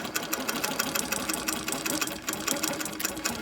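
Sewing machine stitching a wholecloth quilt, a fast, even needle rattle running continuously and fairly close, with no talking over it.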